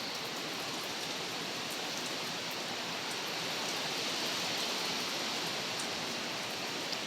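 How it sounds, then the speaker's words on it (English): Wind gusts and light drizzle from Hurricane Ida make a steady, dense outdoor hiss that holds at an even level throughout, with no talking. "It's drizzling a little bit right now. And the wind gusts everywhere."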